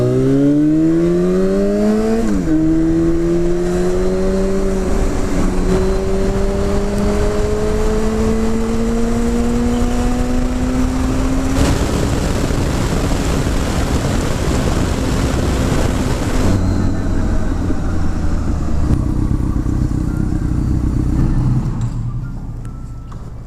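A Yamaha FZ6 S2 motorcycle engine drones and shifts pitch as it rides along, rising through gears with steady loud wind and road noise, then the engine note eases near the end.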